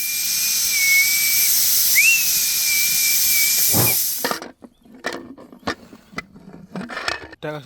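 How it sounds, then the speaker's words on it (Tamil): A pressure cooker on the stove, cooking mutton sambar, lets out a loud, steady steam whistle with a steam hiss for about four seconds, then cuts off, leaving faint kitchen clatter and small knocks. "முடிக்க ஒரு மூணு விசிலு இந்த மாதிரி அடிக்கணும்"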